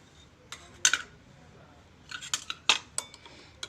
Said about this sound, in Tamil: இதை நல்லா கலக்கிடணும்.